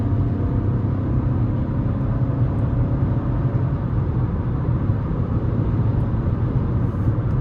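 A 2026 Chevy Trax 1LT with a 1.2-litre turbo three-cylinder pulls hard under acceleration, giving a steady, loud cabin drone and rumble from start to finish with no talking.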